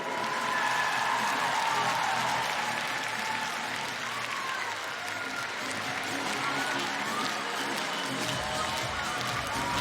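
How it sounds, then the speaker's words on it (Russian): A large crowd at the closing ceremony of the Children of Asia international sports games gives sustained, dense applause for the volunteers, steady and moderately loud for the whole stretch. "давайте подарим несмолкаемые аплодисменты нашим волонтерам"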